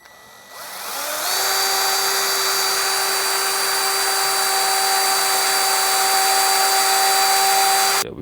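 A power drill bores holes in wood for a garden germination station, spinning up after a short pause into a loud, steady high whine that holds for several seconds before cutting off.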